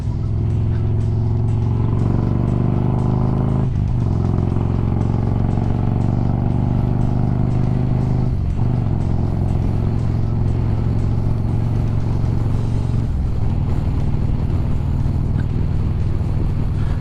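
A Harley-Davidson motorcycle rides along, its loud, steady engine drone rising and falling through several gear changes, close to the microphone with no speech.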